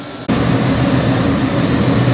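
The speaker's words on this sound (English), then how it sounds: "Okay, Shamir, we have your 1971 Buick Skylark engine here, which is a Chevy LS3. Got it fired up, showing you, running beautiful" A custom 416ci LS3 stroker crate engine for a 1971 Buick Skylark fires up abruptly and settles into a loud, steady, close roar with a deep low rumble, running alone without talk.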